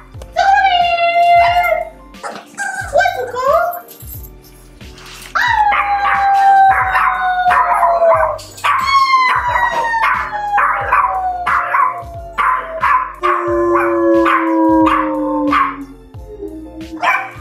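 A pit bull howls loudly and close by in long, wavering, rising and falling wails, repeated many times over a steady low background drone.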